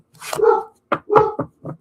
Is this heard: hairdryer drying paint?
no